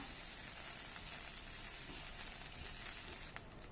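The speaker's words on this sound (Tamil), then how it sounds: "வெங்காயம் நல்லா வதங்கிருச்சு" Large onion pieces sautéing in a pan for capsicum chutney give off a steady, even sizzle with a bright hiss, close and continuous, with no voices.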